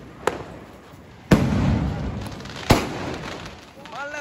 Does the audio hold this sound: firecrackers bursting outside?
yes